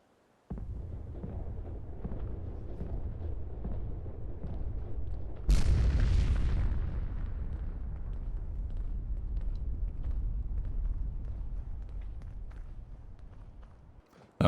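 A detonation goes off in Fallout 4 after a low rumbling bed of footsteps, a single sharp loud blast followed by a long roaring decay that slowly fades.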